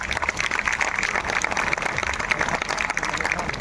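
Loud, dense applause from a large audience of newly appointed teachers at a government ceremony in Munger, many hands clapping together in a steady roar with no break.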